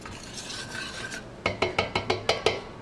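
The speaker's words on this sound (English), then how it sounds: "Give that a bit of a stir." Chicken cacciatore sauce with bay leaf and dried basil is stirred in a pot, a soft scraping swirl followed by about eight quick rhythmic strokes, close and fairly quiet.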